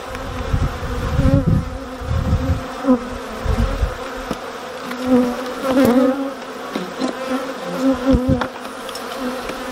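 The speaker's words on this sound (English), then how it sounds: "The bees are bringing pollen in" Honeybees buzz busily up close at the hive entrance as they bring in pollen, a fluctuating hum that swells and fades as insects fly past the microphone, with low rumbling handling noise early on.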